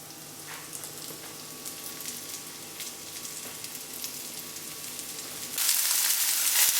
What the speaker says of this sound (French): On va maintenant faire cuire les petits champignons. Donc la poêle est bien chaude.